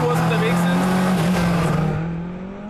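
Lancia Delta S4 rally car accelerating hard on a small driving-safety course, a loud sustained engine drone that rises and holds before easing off at the end, with a voice talking over it.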